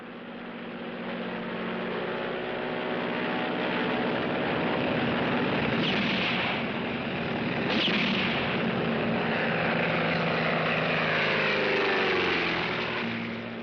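Propeller aircraft flying during an archive wartime airfield scene with rebels and a truck on the runway, a loud continuous droning engine roar holding steady, with two brief harsh bursts partway through and no talk.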